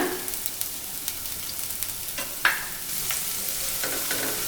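Onions frying on a medium flame for vegetable fried rice, with a steady crackling sizzle broken by repeated scrapes and clacks of a spatula stirring, one sharper knock near the middle.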